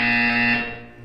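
A buzzer in the Portal 2 video game sounds once, a loud harsh electronic tone held for about half a second before decaying away.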